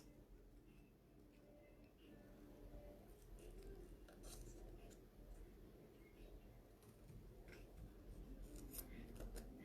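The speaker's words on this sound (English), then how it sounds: "So just cut that one out now." Scissors snip out paper for a scrapbooking layout, a soft, close run of small cuts over a steady low background hum, with no talk.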